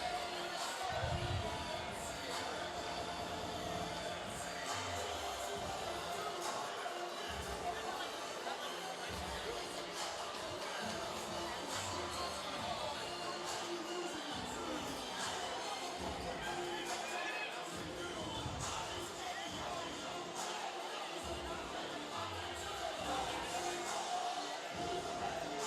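A hometown crowd in Schenectady at a Cage Wars fighting event murmurs and cheers steadily as a fighter enters, a dense, continuous roar with scattered thumps throughout.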